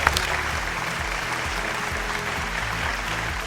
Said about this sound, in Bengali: গৌতমদার জন্য একটা জোরে হাততালি।